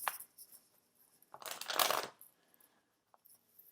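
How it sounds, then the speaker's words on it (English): Tarot cards being shuffled by hand, a quick riffle of soft flicks building to one dense burst of card noise, close and fairly quiet, with no voice. "Do a quick shuffle here so we can get your advice cards out and ready."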